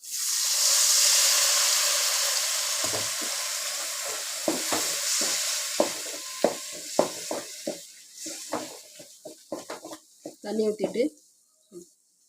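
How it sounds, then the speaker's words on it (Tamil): A pan of tomato gravy spiced with coriander and turmeric powder bubbles and sizzles with a steady hiss, punctuated by intermittent clinks and scrapes from stirring. "இந்த பச்சை வாடை போகிற வரைக்கும் கொஞ்சம் கொதிக்கட்டும்"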